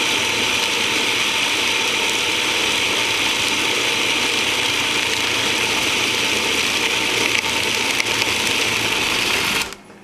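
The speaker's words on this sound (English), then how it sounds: "let the food processor run until it forms into a dough ball" A food processor runs steadily, whirring loudly as it mixes gluten-free cheese cracker dough with buttermilk, then cuts off abruptly at the very end.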